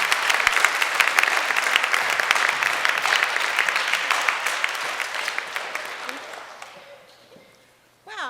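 An audience at a middle school fall orchestra concert applauds the director with dense, lively clapping that holds strong for several seconds, then fades away. A brief sound follows near the end.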